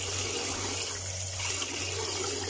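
Fish being washed under running water from a tap, a steady close splashing and gushing stream that continues without a break and with no talk over it.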